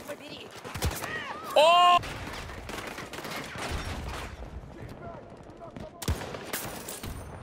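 Gunfire in the shooter game Battlefield 2042, with scattered shots and bursts under game noise, a loud short blast near the two-second mark and another around six seconds, while a player exclaims briefly.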